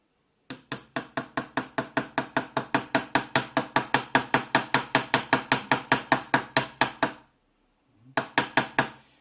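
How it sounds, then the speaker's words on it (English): A rapid, even series of sharp hammer taps driving a pin into a wooden model ship frame, about thirty blows in a row, then a short pause and a few more strikes. "I go ahead and stick the pin through, and with a hammer"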